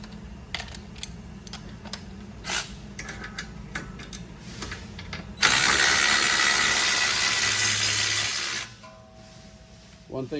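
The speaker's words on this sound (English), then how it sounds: "I'm going to start working on the strut bolts. Take my 19. Let's break them loose." A ratchet on the 19 mm strut bolts of a 2021 Subaru Crosstrek gives a run of quick clicks and taps. A burst of loud hissing noise follows, then a couple of soft knocks near the end.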